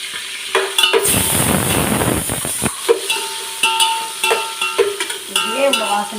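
Chopped onion and green chili hit hot oil for chicken biryani, a loud burst of sizzling followed by clattering stirring and spoon knocks against the pan.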